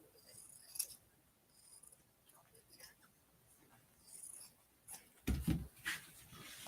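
Scissors snip through a men's shirt a few times near the end, after a stretch of quiet rustling and soft talk in the background.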